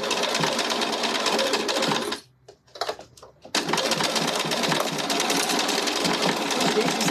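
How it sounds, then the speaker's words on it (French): A sewing machine stitches a fabric pouch at loud, steady speed, pauses for about a second with a few soft clicks, then resumes running continuously. "Et je reprends ma couture."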